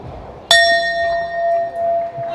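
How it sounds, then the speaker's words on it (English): A single sharp strike of a boxing ring bell opens round four of a welterweight title fight, ringing out clearly and sustaining a long, slowly decaying tone above quiet arena murmur. "And that is the bell for round number 4 of this ABF Welterweight title fight"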